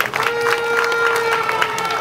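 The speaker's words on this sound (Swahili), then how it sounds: "Naomba tujipigie makofi mengi sana." Audience at a hospital radiology building inauguration in Tanga clapping together, a steady, dense wash of applause throughout with some voices mixed in.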